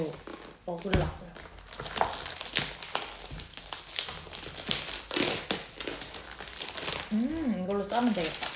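A thin plastic bag is crinkled and rustled close by while it is wrapped around food, with irregular crackling bursts under intermittent talking.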